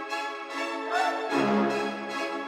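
An orchestral FL Studio beat stacks brass stabs and a synth pad into full sustained chords, with a deeper brass entry midway, rich and alone.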